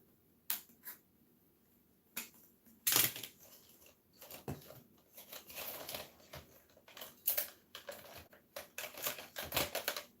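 Small scissors snip through a galvanized metal craft tree with red beads, giving sharp crisp clicks and crunches in irregular bursts, some isolated and some in quick clusters, close up with no talk.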